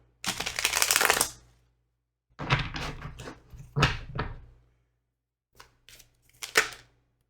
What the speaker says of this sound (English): Okay, this is the last shuffle.